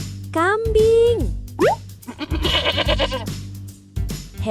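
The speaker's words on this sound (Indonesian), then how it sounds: "Kambing." A goat bleats in a few wavering, nasal cries near the start, followed by a bouncy cartoonish effect and background music in a children's animal quiz.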